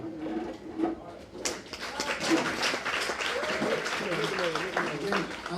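Audience applause from a community gathering, a steady patter of clapping throughout with voices and crowd chatter mixed in underneath.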